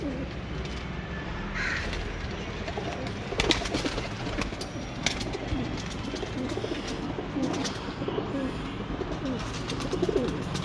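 Maj Wale breed pigeons coo in a breeder's loft in scattered low calls, mixed with nearby crow caws and occasional sharp knocks over a constant background din.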